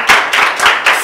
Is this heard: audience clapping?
yes